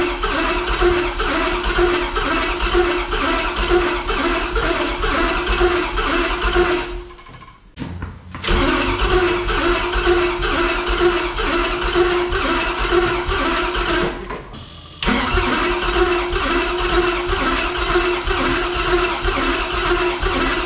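An LS-swapped 1963 van's engine runs loud and steady for most of the stretch, cutting out twice, briefly near the middle and again a little later, before the rough mechanical roar resumes. No voices are heard.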